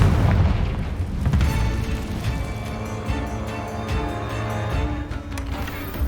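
A Confringo spell explosion in Hogwarts Legacy, a deep booming blast at the start that rolls into a lingering rumble and crackling debris, backed by a low musical score.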